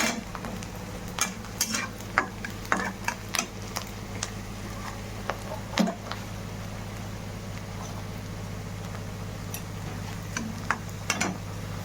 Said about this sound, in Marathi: कांदा मस्त मध्ये आता भाजून घेतोय मी